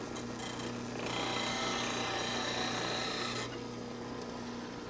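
A metal lathe scraper tool is ground on a grinding wheel to match its bevel. A steady, close rasping grind lasts about two seconds over a constant motor hum that continues before and after, with no talk.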